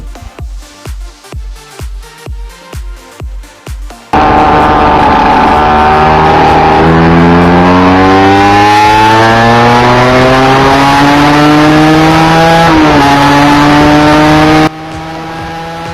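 A Yamaha TZM 150 two-stroke motorcycle engine putters at idle with rhythmic pulses, then revs hard and loud, climbing in pitch through a gear change before cutting off.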